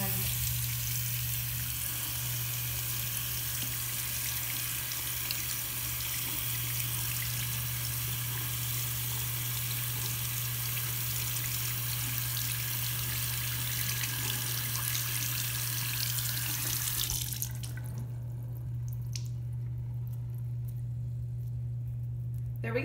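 Water streams steadily from a kitchen sink tap over whole wheat bread, a constant close hiss and splash lasting about twenty seconds before thinning abruptly to a softer trickle, with a low electrical hum underneath.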